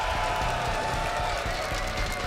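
A live esports arena crowd at the Six Invitational 2023 playoffs in Montreal cheers and applauds in a loud, dense, continuous roar that holds steady throughout.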